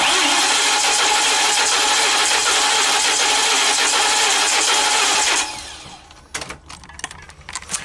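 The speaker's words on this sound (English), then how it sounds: "So I'm going to floor it. I'm going to crank it." A Ford E450 bus with a brand-new V10 engine cranks with the throttle floored for a compression test, a loud, even starter whir for about five seconds that stops abruptly, followed by scattered clicks and rattles.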